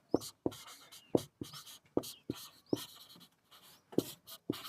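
Pen scratching on paper in short, regular strokes while a maths equation is written out, close and fairly quiet, with brief pauses between strokes and no talk.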